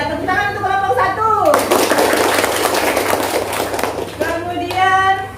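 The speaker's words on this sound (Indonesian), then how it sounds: "tepuk tangan untuk kelompok 1." Classroom applause for a student group during a lesson on Indonesia's proclamation text, a dense burst of many hands clapping for a few seconds between stretches of speech.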